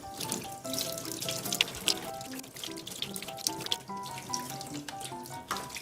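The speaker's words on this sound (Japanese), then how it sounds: "早くこのウニの残骸を洗い流したいっていう気持ちが非常に強いですね" Tap water runs steadily into a sink, washing off the remains of a large venomous sea urchin, with a continuous splashing rush and no talking.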